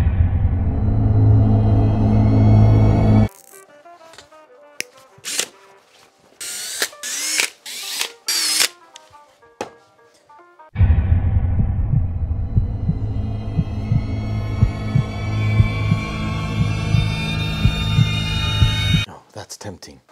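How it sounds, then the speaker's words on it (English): Power tools with brushless and brushed motors run in short bursts, with sharp mechanical whirring and rattling pulses between stretches of steady hum and talk. "this is a brushless motor. This is a brushed motor."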